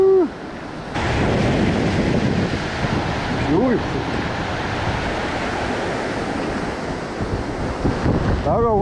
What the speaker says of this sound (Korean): 파도가 세니까